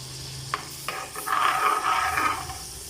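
Butter and crushed garlic sizzling in a pan, a couple of sharp clinks first, then a soft steady frying hiss with stirring, close and fairly quiet, no talking.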